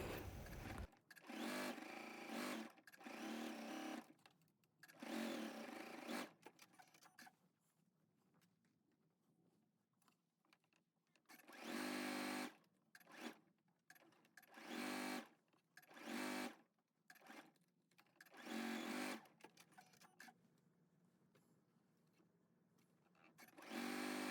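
Sewing machine stitching darts on fabric, repeated loud bursts of fast whirring stitching separated by short quiet pauses, close up.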